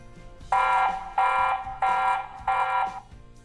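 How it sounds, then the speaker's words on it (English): A TP-Link Tapo C110 security camera's motion alarm blares four times in even, loud buzzing pulses, each about half a second long with brief gaps between. "here you can see how the alarm works. It starts doing some really annoying sounds"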